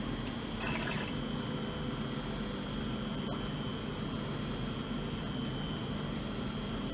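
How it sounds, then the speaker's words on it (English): An ice maker's water pump starts up and fills with water, giving a steady low hum and a continuous watery wash that holds at an even level with no voices. "So now we're slowly going to get the water pumping. That's just the pump turning on now."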